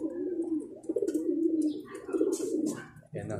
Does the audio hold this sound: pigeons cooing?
yes